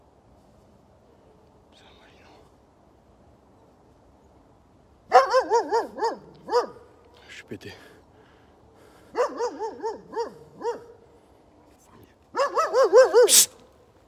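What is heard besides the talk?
dogs barking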